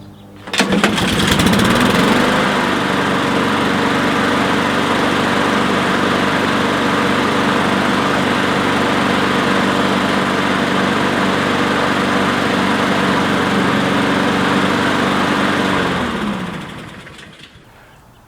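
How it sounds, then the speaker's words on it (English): A Honda HRR216VKA walk-behind lawn mower, seven seasons old, pull-starts on the first pull and runs steadily at close range, its loud, even engine drone holding for about fifteen seconds before cutting off. "let's see if it'll give us a first pull start here"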